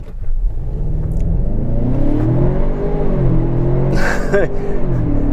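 A 2021 Ford Bronco Sport Badlands accelerating, its engine pitch rising and dropping through several quick 8-speed gear shifts, loud inside the cabin with a steady rumble underneath.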